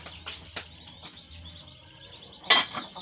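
A banana heart dropped into a pot of boiling water in a home kitchen, with a short splash and a clatter near the end, after light knocks and faint bubbling.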